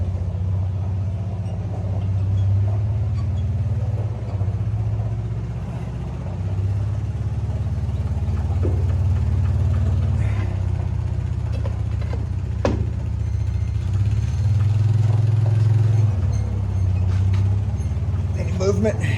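A 1937 Ford engine turning over and running, a loud, steady low rumble with bumping, uneven pulses throughout, while people talk close by.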